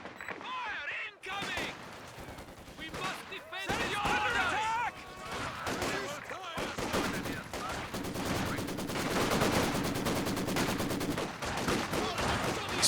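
Soviet Maxim machine gun laying down sustained suppressing fire in a Company of Heroes 2 match, with dense rattling bursts and other battle noise running under continuous commentary talk.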